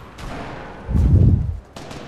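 Gunfire in the video game Fortnite: one short, loud, booming burst sounds close by, between quieter game ambience.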